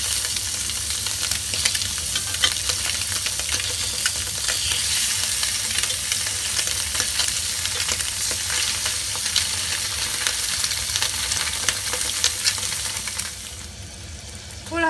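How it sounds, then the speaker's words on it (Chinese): Egg tofu pan-fries in oil until golden for a home-style enoki mushroom dish, giving a long, even, close-up sizzle with fine crackles and pops. The sizzle softens a little near the end. "煎到一边金黄就可以反一边嚟煎噶啦。"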